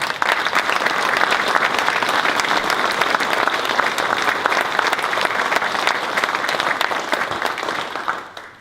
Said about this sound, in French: J'aimerais que vous les remerciez et que vous les applaudissiez